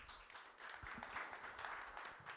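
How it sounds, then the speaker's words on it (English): Applause from the audience at an evening venture capital panel event, a fairly faint, even patter of many hands clapping without speech on top. "Applause."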